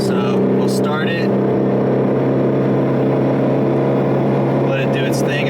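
A Ford Mustang Boss 302 5.0 with an MT-82 gearbox drones loudly and steadily at highway speed from inside the cabin, with brief talk at the start and end.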